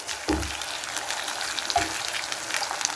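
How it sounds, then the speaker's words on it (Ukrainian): Minced meat sizzling and frying in a pan, a steady crackling hiss with a couple of soft thuds and clinks of stirring. "Зараз сюди додам фарш. І буду смажити десь хвилин 5-6."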